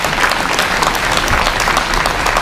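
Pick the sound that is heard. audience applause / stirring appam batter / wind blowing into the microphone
audience applause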